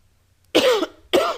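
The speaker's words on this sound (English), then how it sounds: "Excuse me for coughing in your ear." A man coughs twice, close and sharp, directly into a microphone, with a brief pause between the two coughs.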